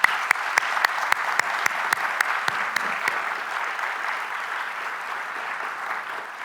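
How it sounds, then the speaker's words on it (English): An audience at a university awards ceremony applauds its national and international award recipients, a steady wash of clapping from a large crowd with a few sharp nearby claps, fading slightly toward the end. "Let's give them all a big round of applause."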